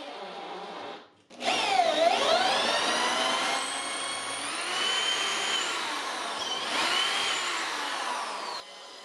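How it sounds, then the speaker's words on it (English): A power drill pre-drills and drives inch-long deck screws into pieces of wood while rebuilding a curbside furniture base, whining loudly and continuously with rising and falling pitch for several seconds after a brief pause. "I pre-drill into each piece of wood on each side, and then I just throw the screws in."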